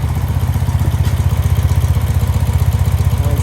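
1976 BMW R90/6 boxer-twin motorcycle with aftermarket mufflers idling nearby, a loud, steady, lumpy exhaust pulse with an even rhythmic beat and no voices.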